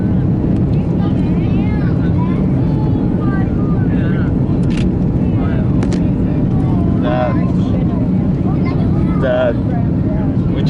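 Virgin Australia Airbus A330 climbing steeply after takeoff in strong wind, a loud steady cabin roar of engines and airflow running throughout, with a few faint higher tones over it.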